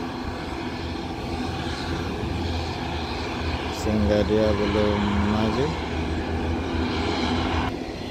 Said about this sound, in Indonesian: nampak dari kejauhan ada satu pesawat mau mendarat